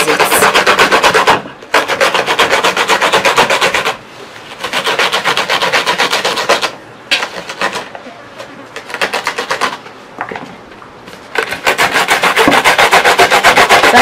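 An ingredient for ayoyo soup being grated by hand in a village kitchen: fast, rhythmic rasping strokes, loud and close, in bursts separated by short pauses, with no speech.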